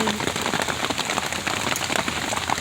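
Heavy rain pours down steadily, a dense close wash of drops drumming on a surface with no voices.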